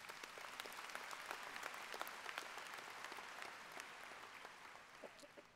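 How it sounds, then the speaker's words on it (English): Broad, steady applause from a commencement audience, many hands clapping at once, fairly distant and soft, holding level before easing slightly near the end. "Go ahead, let's clap for Jamel."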